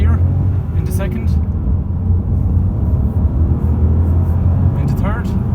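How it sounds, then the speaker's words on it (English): A 1.0-litre VTEC turbo Honda Civic sedan pulls up through its gears, a steady loud engine and road rumble from inside the cabin while someone talks over it. "we're going to drive it up through the gears. First gear, into second,"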